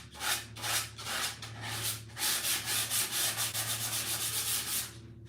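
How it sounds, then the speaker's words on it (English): An orbital sander distresses furniture edges with rhythmic, rasping bursts of rubbing and scraping, pulsing in quick regular strokes after a few slower passes, close and moderately loud. No talking. "I will run down and just hit the orbital sander over this guy because it'll be faster"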